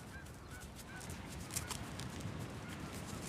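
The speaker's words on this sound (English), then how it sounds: "You can hear the seagulls chirping away." Seagulls call outdoors in a few faint, brief cries, distant and thin beneath a steady wash of broadband outdoor noise.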